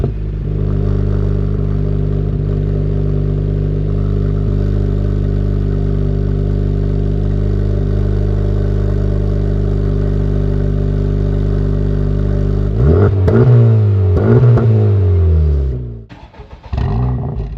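A 2023 Acura Integra Type S engine holds a loud, steady drone close by for about twelve seconds, then is revved in several rising and falling sweeps before dropping off abruptly.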